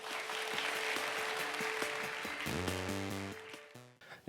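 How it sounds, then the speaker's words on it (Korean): An audience at a lecture on the bio industry welcomes a professor with applause that fades out under a rising, sustained electronic musical jingle. "교수님께 큰 박수로 부탁드리도록 하겠습니다."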